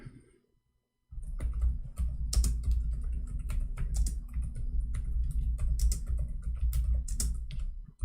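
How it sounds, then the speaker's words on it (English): Steady, dense clatter of keys as someone types Arabic on a computer keyboard, close and continuous for several seconds after a brief quiet start, with no talking. "I'm typing Arabic."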